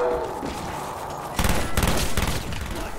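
Rapid bursts of close, loud gunfire in Call of Duty Zombies on the Kino Der Toten map, breaking out after a quieter stretch and rattling in quick repeated volleys.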